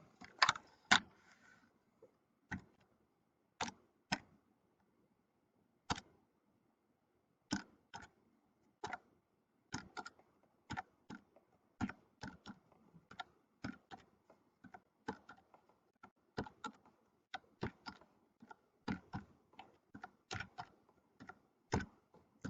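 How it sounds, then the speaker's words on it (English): Sparse, irregular clicks from keys on a computer keyboard sound in quick bursts and single taps against a quiet room, close and fairly soft, with no talking. "I'm going to use my keyboard to type these in quick."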